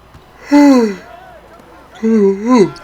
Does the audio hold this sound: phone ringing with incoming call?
no